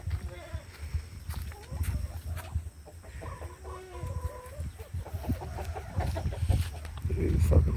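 Chickens cluck and a rooster calls inside a small farm chicken coop, with scattered bursts of clucking over about eight seconds. People talk nearby under and between the bird calls.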